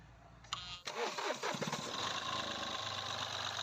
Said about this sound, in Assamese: ওৱান টাচত ইঞ্জিন ষ্টাৰ্ট হৈ গৈছে